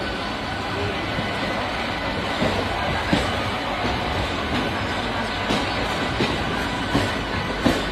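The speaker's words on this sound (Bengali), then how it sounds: "ওদিক থেকে হাওড়া জামালপুর ট্রেনটা হাওড়া স্টেশনে প্রবেশ করছে" The Howrah–Jamalpur train rolls into Howrah station with a steady heavy rumble and faint rhythmic wheel clatter, continuous and close throughout.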